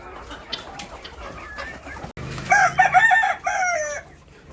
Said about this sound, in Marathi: तर अशा आपल्या ह्या अंड्यावरच्या कोंबड्या आहेत